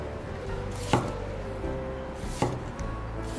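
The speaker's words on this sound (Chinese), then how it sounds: "给它切成小块。" A knife cuts peeled winter melon into small pieces on a board, with two distinct chops about a second and a half apart over a quiet kitchen background.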